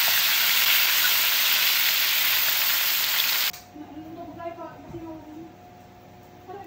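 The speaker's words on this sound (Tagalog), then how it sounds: "Ayan na po guys, nagprito tayo ng chicken." Leg pieces of chicken fry in hot oil, giving a loud, steady, hissing sizzle that cuts off abruptly partway through, followed by quieter kitchen sounds and a voice talking.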